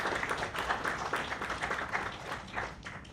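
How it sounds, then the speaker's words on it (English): Conference audience applauding the speakers at a gene therapy event, a steady wash of many hands clapping at moderate distance, even and sustained with no talk over it. "I want to give them a round of applause"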